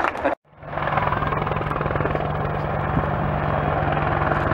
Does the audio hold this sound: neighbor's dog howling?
no